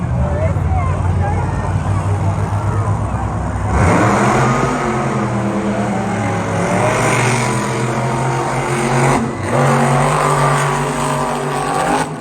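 Monster trucks race at a Saturday night beach show, their engines roaring loudly and revving up sharply partway through, with a continuous loud, close engine drone and crowd or announcer voices mixed in.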